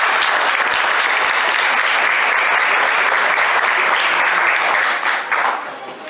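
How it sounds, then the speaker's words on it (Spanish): An audience at a book presentation applauds to welcome an arriving guest, a loud, dense, continuous wash of clapping that holds steady before thinning and fading out near the end. "el doctor Héctor Díaz Polanco, y lo recibimos con aplausos."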